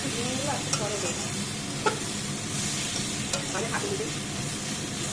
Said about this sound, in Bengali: বেগুনগুলো এবার দিতে হবে